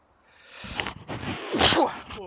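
A single close, sudden sneeze bursts out with a breathy intake and sharp release, lasting under two seconds in an otherwise quiet room.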